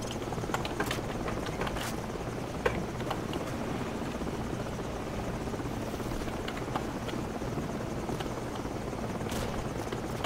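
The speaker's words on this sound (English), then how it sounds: "That helicopter's making another pass." A helicopter passes over a battlefield in Call of Duty: Modern Warfare, its rotor giving off a continuous steady thrumming throughout, moderately loud, with a few faint sharp clicks and knocks on top and no speech.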